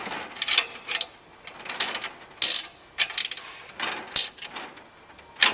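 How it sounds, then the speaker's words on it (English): A 10mm spanner tightens a bolt on an iPad kiosk stand, producing repeated bursts of ratcheting metallic clicks in uneven rhythm, close and moderately loud, with no talking. "using your 10mm spanner,"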